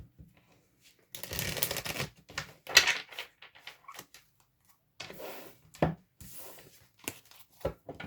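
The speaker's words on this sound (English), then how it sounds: "Let's have a good old shuffle." Tarot cards shuffled by hand in a quiet room, several bursts of riffling and flicking with short pauses between, close and crisp, no talk.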